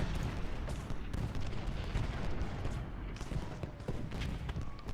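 Civil War cannons boom in the video game Ultimate General: Gettysburg, a dense, continuous rumble of overlapping artillery blasts and gunfire that carries steadily through the whole stretch.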